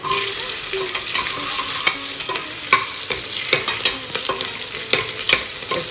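Fennel seeds and Kashmiri chili powder fry in hot oil while a spoon stirs them, giving a steady close sizzle broken by repeated sharp scraping knocks of the utensil against the pan, with no voices.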